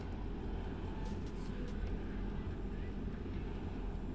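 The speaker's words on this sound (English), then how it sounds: "we're gonna start engine number 1" Engine number one of a JAR A320 airliner in X-Plane 11, using a BSS sound pack, spools up as a steady low rumbling roar with faint higher whine. It holds constant and loud throughout, with a few brief clicks above it.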